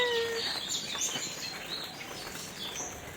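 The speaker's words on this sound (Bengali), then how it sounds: "পাখির কি শব্দ, কি ভালো লাগে না।" Small birds chirp and tweet outdoors on a damp, overcast morning, with scattered high calls and a few brief flutters over a soft background hush.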